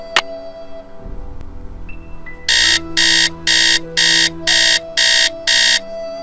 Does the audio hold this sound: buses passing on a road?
no